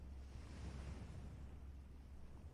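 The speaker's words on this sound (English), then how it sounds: "She listens to the waves again." Waves wash steadily onto a quiet shell-strewn shore, a soft continuous low rumble of surf with gentle swells, fairly distant and calm, with no voices.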